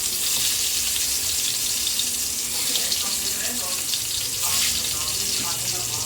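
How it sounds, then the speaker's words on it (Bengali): Spiced eggplant slices fry in hot oil, a dense, close, steady sizzle that hisses on without a break and holds fairly loud throughout. "বন্ধুরা তেলের মধ্যে বেগুনগুলো এক এক করে দিয়ে দেব।"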